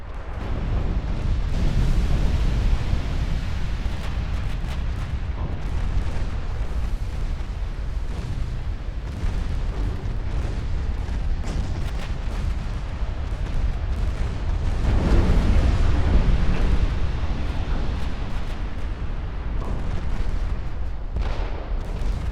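Naval secondary guns fire in Ultimate Admiral Dreadnoughts during a 1960 Ottoman campaign battle against Soviet ships, a loud unbroken barrage of dense rumbling blasts that runs the whole length with no voices.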